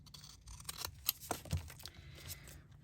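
Scissors snip through folded book pages in a few quick, close, crisp cuts, with light paper rustling and handling noises in between.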